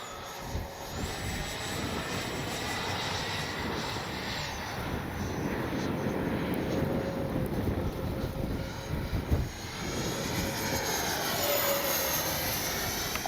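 A Flyfans Su-27 64mm electric ducted-fan RC jet flies overhead with a steady whooshing roar, a faint high whine drifting in pitch as it passes, moderately distant and constant.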